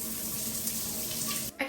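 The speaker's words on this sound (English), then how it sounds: "first step is to have a shower" Shower water pours steadily and close by, a dense continuous hiss that stops abruptly near the end.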